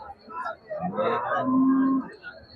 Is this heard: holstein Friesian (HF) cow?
yes